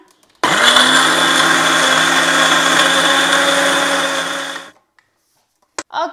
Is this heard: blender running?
yes